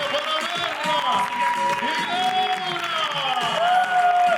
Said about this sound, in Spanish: Fuertísimo el aplauso